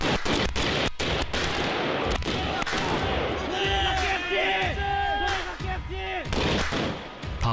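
Soldiers in a military moving-fire drill shoot rifles in rapid, irregular shots and bursts, close and loud, while voices shout over the firing.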